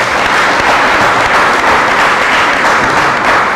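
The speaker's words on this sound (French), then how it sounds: "Je crois que Omar mérite des applaudissements," A crowd at a book signing ceremony applauds the author, loud, dense clapping sustained evenly throughout without a break.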